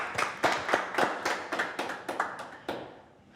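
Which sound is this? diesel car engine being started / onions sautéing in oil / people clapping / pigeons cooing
people clapping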